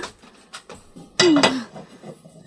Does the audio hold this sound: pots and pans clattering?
yes